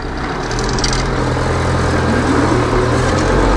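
A restyled YuMZ tractor engine running in a field while rolling soybeans, a steady loud low diesel drone that holds constant with slight load changes.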